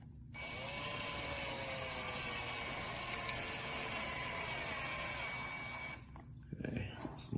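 A VIWKO 20V cordless drill-driver drives a screw into a cabinet, a steady high-pitched motor whine holding for about six seconds before stopping, followed by a brief clatter as the tool is set down.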